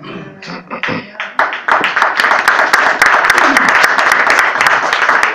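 A church congregation applauds during a sermon. Someone speaks briefly at first, then loud, dense clapping rises and continues steadily to the end.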